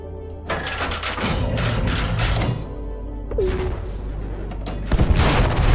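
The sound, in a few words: torpedo explosion against enemy battleship in video game Conflicks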